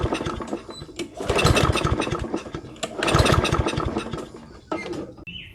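A Craftsman lawn mower is cranked by its starter cord twice, each pull a loud rasping burst of about a second and a half, followed by a shorter third tug, with quieter handling noise between the pulls.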